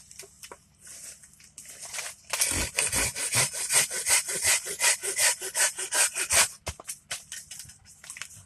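A pruning saw with a straight blade cuts through a wooden spoon blank in steady, rhythmic strokes, close and moderately loud, starting with a few light scrapes before settling into fast back-and-forth sawing.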